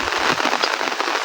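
Steady rain falls in a broad, even hiss over a vegetable garden during a wet day, a dense continuous patter of drops on surfaces with no voices.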